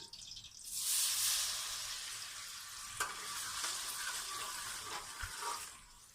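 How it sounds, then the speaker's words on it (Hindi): A small onion drops into a cup of hot oil and erupts into a loud, steady sizzle that gradually settles into a softer, continuous fry with a few faint clicks. "इसमें मैं एक छोटे साइज का प्याज डालने लगी हूँ।"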